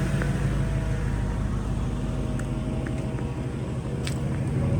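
A restored car's engine runs steadily after being brought back to life, giving a continuous low rumble close by with no talking over it.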